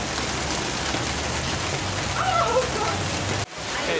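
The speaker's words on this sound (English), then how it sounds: "I don't know if you can tell, but it's just starting to rain." Light rain just beginning to fall in the Cameron Highlands, Malaysia, a steady close patter and hiss on nearby surfaces with a brief dip near the end.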